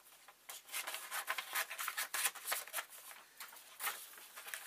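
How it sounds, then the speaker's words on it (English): Scissors snip and rustle through a foam sheet cutting out a circle, a quick series of soft, close crisp cuts at low volume. "what I need to do is I need to cut out my circle"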